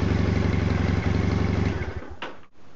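A motorcycle engine runs close by with a quick, even pulsing idle, then fades and drops away in the final half second.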